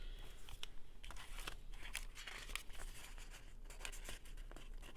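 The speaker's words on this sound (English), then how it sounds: "But see, they peel off pretty easy." Washi stickers peeled off a backing sheet for a ledger-style journal, giving close, soft crinkling and tearing rustles with a few sharper crackles spread across the whole stretch, no talking.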